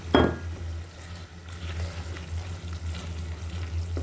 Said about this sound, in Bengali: এখন আমি দিয়ে দিচ্ছি তেজপাতা, এলাচ, দারচিনি